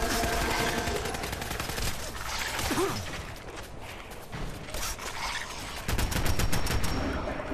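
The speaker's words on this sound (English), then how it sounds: "luckily I managed to reload and shoot him before he got his final hit in" Gunfire in Fallout 4 as an enemy is shot, with rapid clustered shots and crashing impacts filling the scene, loud and close, with a denser burst of fire near the end.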